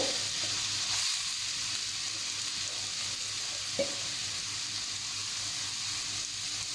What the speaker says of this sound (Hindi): ग्रेट किया हुआ बोटल ग्राउट ऐड करेंगे। मीडियम फ्लेम पे इसे हम कुक करेंगे।